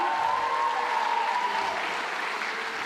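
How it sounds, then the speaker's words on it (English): Steady, dense applause from a large keynote audience at an Auckland-style conference event, filling the whole stretch at an even, fairly loud level with no break. "Give yourselves a round of applause"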